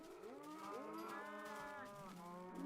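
Several cows moo in the blocky survival game Minecraft PS3 Edition, drawn-out lowing calls overlapping one another, fairly quiet and steady with no talk over them.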